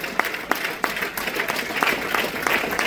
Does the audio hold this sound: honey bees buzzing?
no